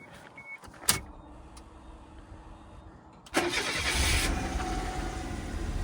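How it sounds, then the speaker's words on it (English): A Suzuki car with a newly installed battery cranks with a sharp click, then a pause, then the engine catches and settles into a steady, fairly close idle. "let's just make sure the car starts."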